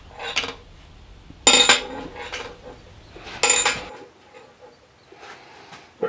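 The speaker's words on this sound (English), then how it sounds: "I'm going to roll the lump onto steel rollers." A metal lump is rolled onto steel rollers, giving a few sharp metallic clanks and rattling knocks in separate bursts, close up with quiet gaps between them and no talk.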